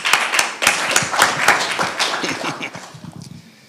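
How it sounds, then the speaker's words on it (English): A small group claps in a brief burst of applause at a governor's honoring ceremony, sharp and close at first, then thinning and fading out over a few seconds. "Let's give them a round of applause"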